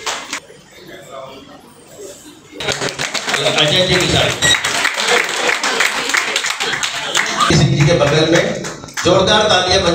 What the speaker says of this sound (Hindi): जोरदार तालियां मंजू जी सिंह